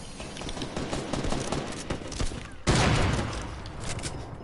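Video game shootout with a rapid spray of gunfire and a sniper rifle shot, loud and dense throughout, with a sharp heavy blast around the middle followed by more crackling fire.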